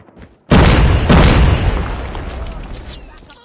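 A frag grenade goes off in a Call of Duty battle: one loud, sudden boom with a second crack right behind it, then a long rumbling tail that fades over a few seconds, with no talk over it.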